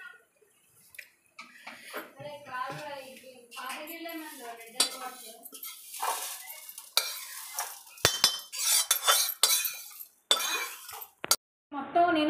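Fried, crisp curry leaves are scraped and shifted from a pan into another bowl, with clinks of metal utensils and pots, scattered sharp knocks, and a person talking over much of it.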